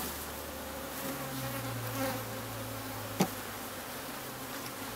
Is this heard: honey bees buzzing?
yes